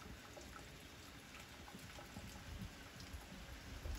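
Soft, steady rain patters continuously on a surface at a horse barn, faint and even, with scattered drips and no voices.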